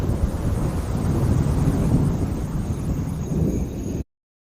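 A cartoon night thunderstorm rumbles with heavy rain, a dense, continuous low roar at steady loudness that cuts off abruptly into silence near the end.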